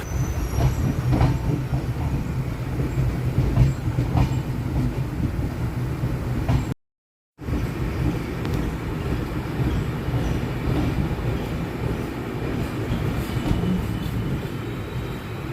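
Express train from Kolkata to New Jalpaiguri pulling into platform three at New Farakka, a steady low rumble of rolling railcars and wheels with faint squeals, continuous and close apart from one brief dropout midway.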